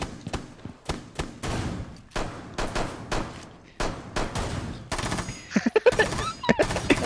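Rapid bursts of gunfire in Rainbow Six Siege, firing in rhythmic clusters like a musical pattern, loud and close, with a few sharp single shots and metallic pings toward the end.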